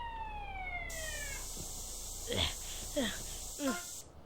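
A police car siren in the video game GTA San Andreas wails in a steady high tone, with sweeping game sounds and a speaking voice layered over it.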